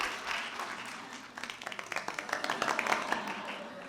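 An audience at a cardiology talk on STEMI interventions breaks into clapping after the presentation ends. The applause starts soft, then builds into a steady patter of close, distinct hand claps.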